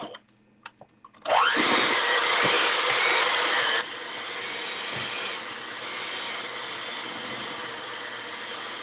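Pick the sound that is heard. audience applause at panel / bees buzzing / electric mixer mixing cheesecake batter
electric mixer mixing cheesecake batter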